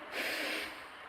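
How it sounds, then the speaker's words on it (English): A child in a kids' yoga class takes one soft, airy breath in through cupped hands, a short quiet inhale heard alone. "Breathing in"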